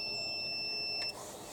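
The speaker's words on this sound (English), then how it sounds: "on continuity, so when I've got a circuit you get the beep" A multimeter on continuity beeps as its probes bridge a battery negative terminal and an engine, a single sustained high tone lasting about a second before cutting off, heard alone and close.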